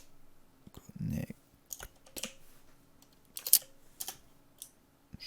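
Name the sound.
typing on a computer keyboard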